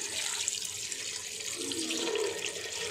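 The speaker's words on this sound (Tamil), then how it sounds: "இது வந்து அரிசி களைஞ்ச தண்ணி எடுத்து" Rice-washing water pours steadily into a cooking pot in a home kitchen, a continuous near splashing stream lasting the whole moment with no voices.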